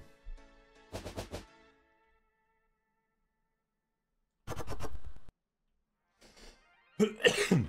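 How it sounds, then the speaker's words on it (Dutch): A person coughs in separate harsh bursts with near-silent gaps between them. The coughs are close and fairly loud, and a final rougher burst ends the sequence. "Stomme hoest."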